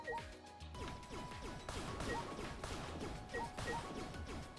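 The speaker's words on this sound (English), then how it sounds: "let's start by smashing everything" Objects are smashed over and over in Danganronpa V3, a rapid string of sharp crashing hits and breaking thuds, each one set off by short chiming pickup tones, packed closely together with no talking.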